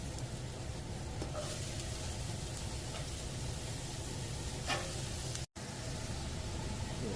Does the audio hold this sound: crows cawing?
no